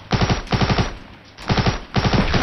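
Loud, close bursts of rapid automatic gunfire in a shooter video game, three short volleys separated by brief quiet gaps.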